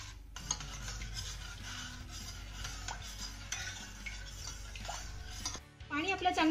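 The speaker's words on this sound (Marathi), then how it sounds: "आता हे घातलेलं पाणी आपल्याला चांगलं मिक्स करून घ्यायचंय।" A spoon stirs thick cooked dal with a glass of added water in a pot, a soft continuous scraping and sloshing with occasional clinks against the metal.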